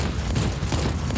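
Rapid bursts of cannon fire from a four-barrel anti-aircraft tank in Just Cause 4 rattle continuously, a dense, loud stream of thudding shots packed closely together.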